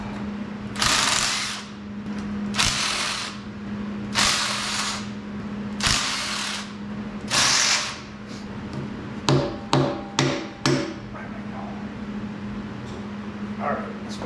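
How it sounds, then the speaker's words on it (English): A hand ratchet clicks in quick bursts while the oil pump is unbolted from a Chrysler 400 engine during a teardown. The rapid pawl ticks are close, following several louder broadband bursts over a steady low hum. "Get this oil pump off."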